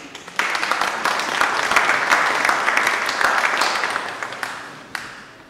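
Warm audience applause at a poetry event after a reading of a poem by Brazilian poet Marta Medeiros, a dense burst of clapping that swells, holds, then tapers off with a few last claps.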